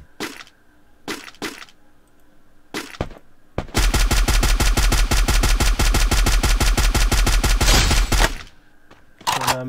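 Free Fire battle royale gunfire rings out as a few scattered single shots and short bursts, then a long, loud, rapid automatic volley of evenly spaced cracks for several seconds, followed by more isolated shots.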